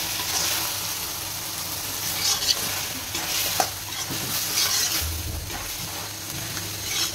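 Oyster mushroom curry cooks with cumin paste just added: a continuous close sizzle under repeated stirring scrapes, with occasional soft knocks of the spoon.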